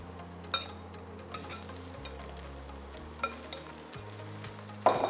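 Minced meat fries with onion and carrot in a pan, a quiet steady sizzle broken by a few sharp taps and scrapes of a utensil, close but fairly soft.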